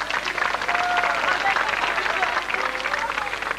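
An audience claps and cheers through a lively dance show, a dense wash of applause mixed with crowd noise and voices from start to end.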